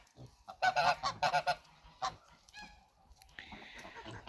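Geese on a farm honking in a quick cluster of loud, close calls, followed by a single honk and a few softer, scattered calls under faint outdoor ambience.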